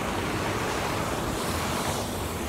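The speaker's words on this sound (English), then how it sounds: "I'm on a hike, and there's a waterfall." A waterfall on an autumn hike gives a steady, dense rushing roar, loud and unbroken, with no voices over it.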